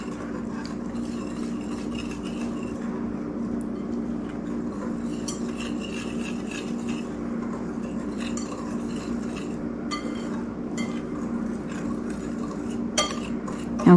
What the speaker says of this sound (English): Now it says to whisk this together to blend it up in the bowl.